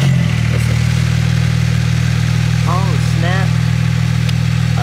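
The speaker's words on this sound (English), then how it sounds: "that exhaust is not stock" Nissan Skyline R32 GTS-T with an aftermarket exhaust idling nearby, a loud steady low drone that runs throughout while a man briefly calls out over it.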